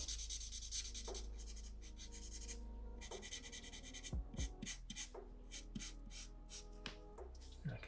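A chisel-tip marker colours red into a comic-style drawing of Deadpool, giving short scratchy strokes and rubbing passes on paper in quick bursts, close and fairly quiet, with no talking.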